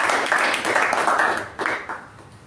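An audience at a Toastmasters club meeting applauds the incoming Master of Ceremonies, a dense, steady wash of many hands clapping that holds for about two seconds and then thins and fades.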